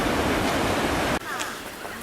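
Sea of Japan waves wash in a broad, steady roar of surf for about a second, then the sound cuts abruptly to a quieter, thinner wash with faint wind.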